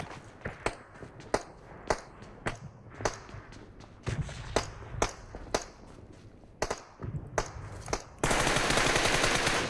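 Rapid bursts of gunfire ring out in a PUBG Mobile firefight, sharp repeated shots in uneven clusters over a low rumble, ending in a dense loud stretch of continuous noise.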